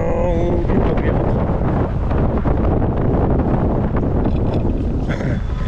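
Wind rushes steadily and loudly across the microphone while riding an electric bike through Amsterdam, a continuous buffeting roar with no gaps from start to end.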